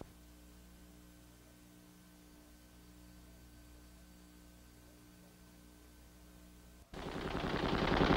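An aircraft-type Vulcan Gatling gun, capable of up to 7,200 shots per minute, at a Navy test range: a steady low mechanical hum gives way near the end to a sudden, loud, dense roar of continuous rapid fire.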